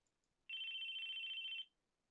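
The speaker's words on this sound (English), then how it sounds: "The phone was ringing stubbornly." A cell phone rings in the ChäoS;HEAd video game: one bright electronic ringtone burst of just over a second, clear and alone against near silence.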